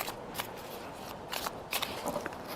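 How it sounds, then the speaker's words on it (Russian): Tarot cards drawn and slid from a deck during a reading, giving soft papery shuffles and flicks in a few short bursts, close and fairly quiet, with no talking. "Сейчас еще доберу карты."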